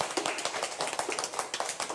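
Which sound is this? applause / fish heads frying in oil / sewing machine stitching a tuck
applause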